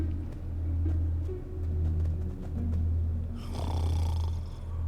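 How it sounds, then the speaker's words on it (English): A character in the video game Minecraft Story Mode snores in slow, rhythmic cycles, three deep, rumbling breaths close up and alone, followed by a brief brighter noise at the end. "Even his snore makes him sound like a know-it-all."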